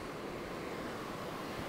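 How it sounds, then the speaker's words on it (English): Ocean surf rolling in at Lawrencetown beach, a continuous broad wash of breaking waves mixed with wind noise, with no voices. "Check the waves"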